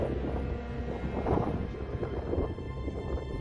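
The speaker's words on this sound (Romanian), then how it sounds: "cât bate vântul, ești nebun de tare" Strong wind buffets the microphone outdoors in a desolate, empty area, a loud rumbling roar that surges and gusts unevenly throughout, with no speech heard.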